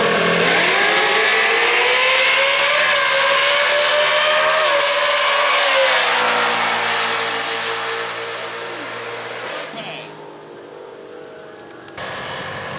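A 2006 Ford Mustang makes a solo drag racing pass at Worldwide Technology Raceway, its engine screaming loud through rising gear pulls before the note drops and fades into the distance, leaving a quieter tail.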